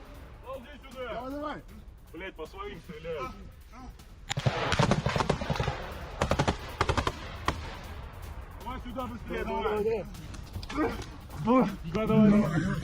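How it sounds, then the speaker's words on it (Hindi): Gunfire in a war zone, Ukrainian army shots aimed at Russian soldiers, sounding as a burst of loud sharp cracks and booms in the middle of the clip, with voices speaking before and after. "ये देखिए यूक्रेनी सेना की फायरिंग से कैसे रूसी सैनिक बाल बाल बचे"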